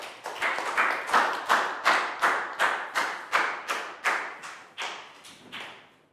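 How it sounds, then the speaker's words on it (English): A Year 4 class claps in a steady, evenly spaced rhythm of about a dozen loud hand claps in a classroom, each one a crisp, ringing hit, with no talking. "a big round of applause for Down"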